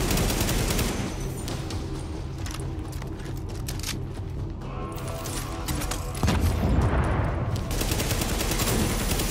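Gunfire in the video game Tom Clancy's The Division: dense, continuous bursts of automatic shots and booms, loud and sustained throughout, with no talk.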